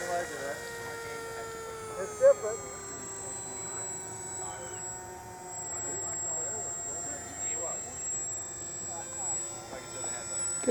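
AeroScout RC model airplane, modified with an original Radian wing, passing overhead at a flying field, a faint steady motor drone rising and fading across the sky over outdoor ambience.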